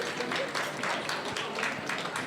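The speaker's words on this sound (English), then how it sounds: "Round of applause." A crowd at an auction applauds after a lot is sold, the clapping dense and steady throughout, with some voices mixed in.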